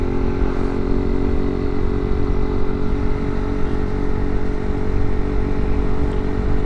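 Motorcycle fitted with an aftermarket air filter and stock exhaust cruising along: a steady, loud, throaty engine drone with a rough pulsing texture, close and continuous without talk.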